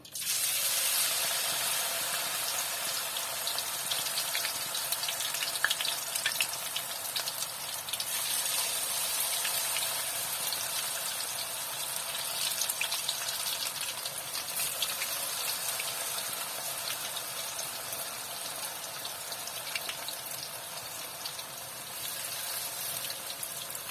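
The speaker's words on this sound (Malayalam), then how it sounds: "ഒരു ചട്ടി അടുപ്പത്ത് വെച്ച് ഞാൻ ഓയിൽ ഒഴിച്ചിട്ട് അതിൽ നന്നായിട്ട് ചൂടായിട്ടുണ്ട് ഇനി നമുക്കിത് ഇട്ടിട്ട് പൊരിച്ചെടുക്കാം" Banana flower vada dropped into hot oil in a pan, a steady broadband sizzle and crackle of deep frying that holds evenly and fairly close throughout with no talking.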